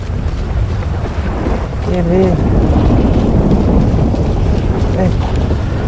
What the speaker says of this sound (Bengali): এখন প্রচন্ড বৃষ্টি হচ্ছে